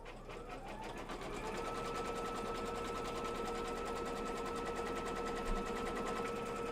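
An embroidery machine stitches a quilt block in the hoop, giving a steady, fast mechanical whirring and rapid needle chatter that carries on unbroken throughout, close and fairly loud with no talk.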